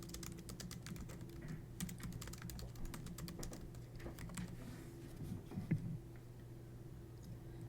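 Fingers type on a computer keyboard at a steady, quiet patter of close key clicks, entering an essay question.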